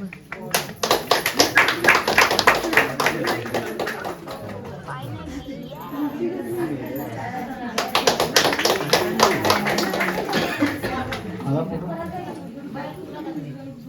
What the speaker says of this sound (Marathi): हे टाळ्या वाजवा